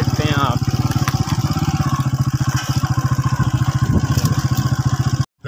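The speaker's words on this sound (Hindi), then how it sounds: "ये देखें बाइक है" A motorcycle engine runs loud and close in a jungle with a rapid steady pulsing putter, while someone talks over it, before the sound cuts out abruptly near the end.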